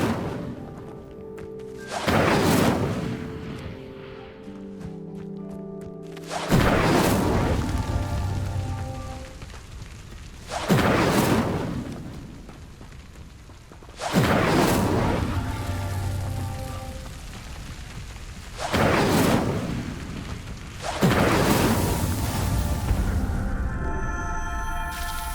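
An Incendio fire spell igniting pyres in Hogwarts Legacy: about six loud, whooshing fiery bursts spaced a few seconds apart, each fading into a crackling tail, with soft tonal game sounds in between.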